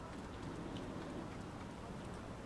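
Steady, even rainfall in a train simulator video game hisses continuously at a moderate level, with no other distinct sounds.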